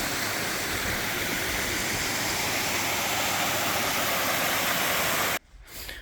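Iris Falls, a creek waterfall near Lost Corner, Arkansas, roaring as a loud, steady broadband rush from close by, cutting off abruptly near the end to quieter ambience.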